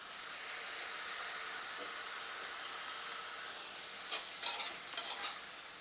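Spoon stirring a green chilli side dish mixed with jaggery and lemon juice in a pan, a soft steady sizzling hiss with a few louder scraping clicks near the end.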